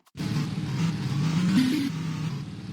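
A car engine in a Roblox game revs steadily while the car drifts, a loud continuous droning hum with a rising pitch sweep in the middle. No one talks over it.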